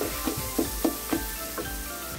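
Olive pickle cooks in a pan, a soft steady sizzle broken by four or five rhythmic scraping strokes as it is stirred.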